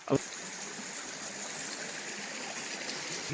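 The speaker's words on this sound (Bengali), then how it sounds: "পানি নামতেছে" Steady stream water flows down from a waterfall area in Alikadam, Bandarban, rushing continuously, a broad even wash of sound, with a brief knock at the very start.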